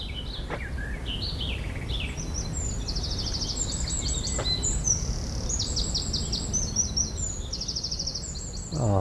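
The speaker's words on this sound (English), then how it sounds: "Oh, lovely bird song." Birdsong by the River Stour at Wissington, heard on a countryside bike ride: repeated bright chirps and trilled phrases at moderate distance over a steady outdoor rumble.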